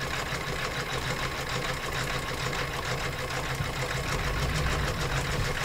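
An embroidery sewing machine stitching trivets and tea towels runs with a steady, fast mechanical whir and rhythmic needle clatter, continuous and fairly close throughout with no talking.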